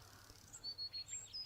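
Several short, high bird chirps come in quick succession, faint and at a distance over a quiet low background.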